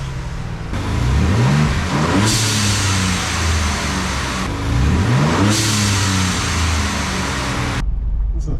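A Ford Ranger Raptor engine fitted with a Turbosmart blow-off valve, revved loudly twice, each climb building boost and then releasing, heard up close before cutting to near silence.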